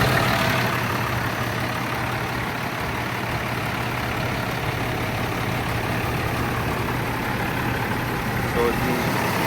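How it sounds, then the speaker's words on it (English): A 2025 Thomas HDX school bus with a 300-horsepower engine, started from the rear and settling into a loud, steady diesel idle heard close up for the whole stretch. "This bus has a rear start option,"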